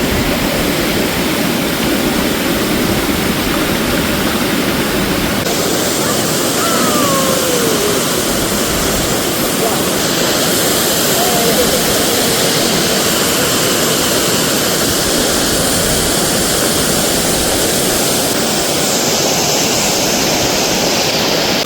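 Water pouring steadily down from a pond on a bathing outing, a loud continuous rushing roar that fills the whole stretch without pause.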